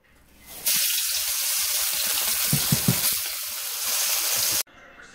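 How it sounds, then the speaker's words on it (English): Snake River Farms American Wagyu beef hits hot sesame oil with a sudden loud, sustained sizzle lasting about four seconds, then cuts off abruptly; no one talks over it. "We're gonna throw some sesame oil, give it a quick sear, and we're ready to eat."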